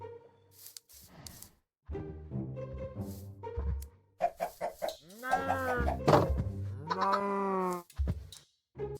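Minecraft chickens cluck in short bursts with brief gaps, up close and loud, among other farm-animal sounds that include low moos, with no talk.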